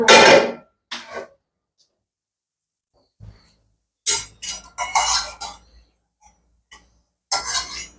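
Several metal clinks and clatters of a pan being set on a lit kitchen stove while making katte pongali, short bursts spread across quiet pauses, close and fairly loud.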